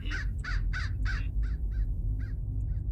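Bird cawing in the video game Hello Neighbor Alpha 2, a series of harsh crow-like caws repeated at an even pace, the first four loud and the rest fainter, over a low steady hum.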